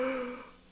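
A single short, breathy yawn: a soft voiced exhale that starts fairly loud up close and trails off quietly within a second.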